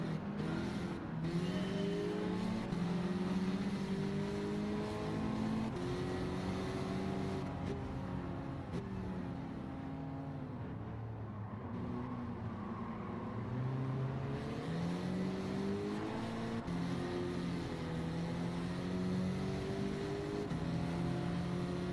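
A race car engine in Gran Turismo 7 drones faintly and continuously, with rising and falling pitch as it revs and shifts through a long stretch, distant and low in the mix.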